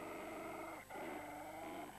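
A puppy growls in a Polish-dubbed Laurel and Hardy cartoon, a low, continuous rumbling snarl with a brief dip midway, close and steady.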